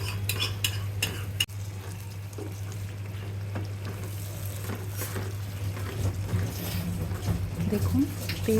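Spice masala frying in oil for rohu fish kalia, stirred with a utensil that scrapes and clinks against the pan over a steady low sizzle and hum, close up, with a voice speaking over it.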